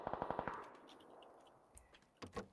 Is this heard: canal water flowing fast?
no